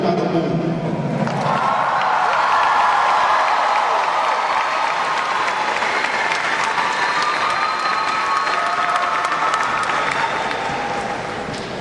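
A large audience at the 40th Joinville Dance Festival in Brazil gives sustained, loud applause, a dense wall of clapping with some cheering that holds steady throughout and eases slightly at the end.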